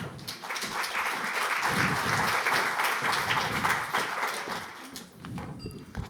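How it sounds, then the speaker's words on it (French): An audience at a corporate communications summit claps for a speaker invited on stage. The applause is dense and steady, swells slightly in the middle, then thins and fades near the end. "Et on peut l'applaudir."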